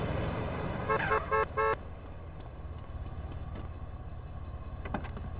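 Three short honks sound over a steady engine hum, with a car idling close and a voice speaking over it, in Grand Theft Auto: San Andreas.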